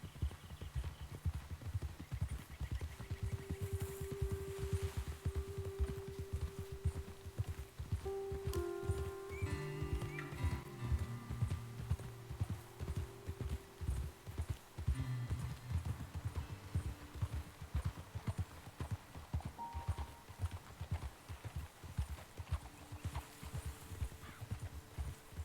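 Horse hooves clip-clop steadily in Red Dead Redemption 2 as riders move along, a continuous rhythmic plodding of several animals with faint ambient hum, a brief whinny-like tone and no talking.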